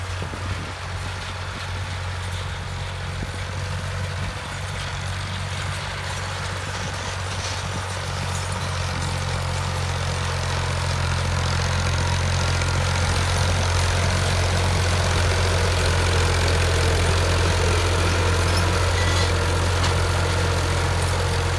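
An Alghazi diesel tractor engine idles in a loud, unbroken low rumble that swells slightly partway through and then holds steady.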